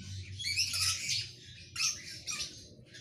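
Baby birds, young terns, squawk in a run of shrill, raspy calls close by, a longer burst followed by two shorter ones over a low steady hum.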